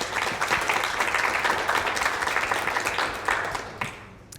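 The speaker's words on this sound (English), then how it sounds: "Applause!" A burst of applause from a group, dense overlapping claps filling the space at steady strength before tapering off at the end, with no speech over it.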